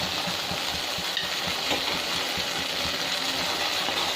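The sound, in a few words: cashew paneer frying in oil on medium flame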